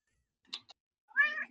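A house cat gives one short meow close by after a couple of faint clicks, in an otherwise quiet room.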